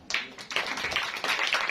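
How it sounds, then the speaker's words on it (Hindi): A church congregation claps loudly, a brief burst of dense, uneven applause that rises in sharp waves. "जोरदार तालियां बजाएंगे"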